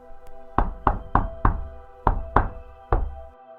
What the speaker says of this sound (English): At first I thought I imagined the noise, a soft knock coming from the closet